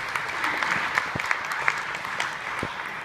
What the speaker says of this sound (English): have a round of applause for the City of Perth.